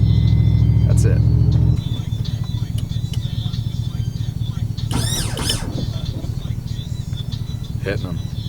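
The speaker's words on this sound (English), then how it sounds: "I'm going to pull the truck out of the garage, turn it around, pull it back" A lowrider truck's engine rumbles steadily as it is driven out of a garage, turned around and pulled back in, with a loud opening stretch, a brief squeal and short voices.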